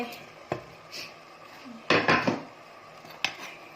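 Clattering knocks and clinks as pork bones, vegetables and pork sausage are dropped into a cooking pot for Thai rolled-noodle soup, several separate impacts with one louder cluster in the middle, close and without talk.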